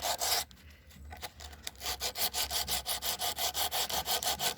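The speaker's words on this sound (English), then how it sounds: "Just rub it gently. Don't be too rough. Very gently." Gentle rubbing to clean a garden solar light panel, a close, rhythmic scrubbing with even back-and-forth strokes about five per second, repeated steadily.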